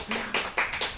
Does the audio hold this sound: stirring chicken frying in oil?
no